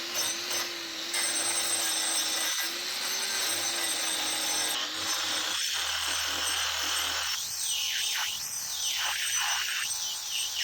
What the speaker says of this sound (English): Cutsaw Extreme Grinding Disc.